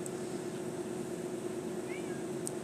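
A cat meows once in the room, faint and brief, over a steady hum during play of a VR horror game.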